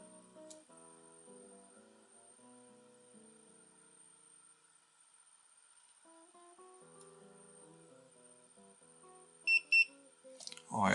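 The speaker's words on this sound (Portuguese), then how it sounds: "Ele faz a leitura e dá um bip verde." A battery internal resistance tester gives a short, high electronic beep after taking a reading, heard as a quick double chirp near the end over a quiet, faintly humming background.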